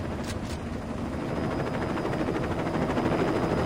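A helicopter in the Saints Row video game gives off a continuous, dense rotor and engine roar, fairly loud and steady throughout with a faint rhythmic chop, and no voices over it.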